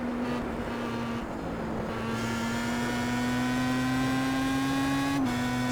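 Star Mazda race car engine lapping Phillip Island in the iRacing simulator, a steady high-revving drone that climbs gradually and drops sharply near the end as the throttle lifts.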